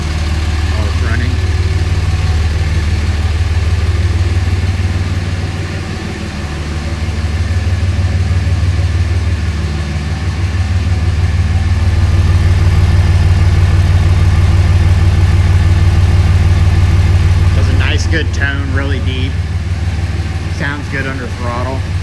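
A 2006 Dodge Ram 2500 with a 5.9L Cummins turbo diesel idling, a loud, steady low rumble with a gentle rise and fall, close by, with brief higher clicks and rattles near the end.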